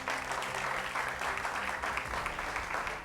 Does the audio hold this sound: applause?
yes